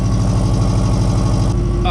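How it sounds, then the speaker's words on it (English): Car engine idling with an exhaust leak where the dump pipe meets the cat-back, a steady loud low rumble with a rapid pulsing chuff throughout, close up. "the dump's leaking from where it meets the cat back"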